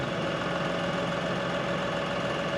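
A tractor engine idles steadily with its front loader arms lifted, giving a close, constant mechanical rumble and hum with no talk.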